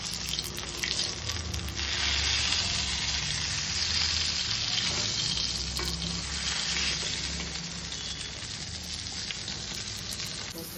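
Pomfret fish fries in a hot pan at home, giving a steady, loud sizzle that carries through the whole stretch with faint clinks of cookware and no speech.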